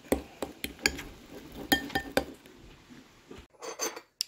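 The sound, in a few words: stirring deviled egg filling in a bowl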